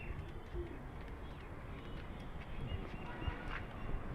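Hyderabadi white pigeons coo softly and intermittently through a steady background hiss, faint and somewhat distant throughout.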